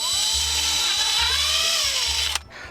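A power drill whines steadily at close range while drilling pilot holes for a chicken coop door, its pitch rising and falling through several bursts before cutting off abruptly near the end.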